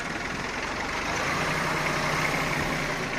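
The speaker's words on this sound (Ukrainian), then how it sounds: "От я даю вперед." A heavy diesel tractor engine chugs steadily at close range, its low rumble rising slightly as the tractor with a front blade moves forward.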